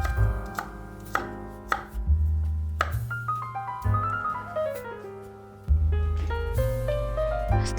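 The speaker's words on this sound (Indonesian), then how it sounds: "Yang terakhir kita potong daun bawang." A knife chops spring onions on a board for a stir-fry of mustard greens and egg, giving a steady run of sharp, close cuts over continuous background music.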